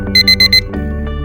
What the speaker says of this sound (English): The alarm sound is alarm 1.